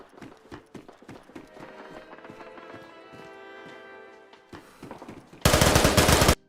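Gunfire in the DayZ video game on the Chernarus map, a burst of rapid close shots near the end, loud and dense, after a stretch of quieter rhythmic movement sounds.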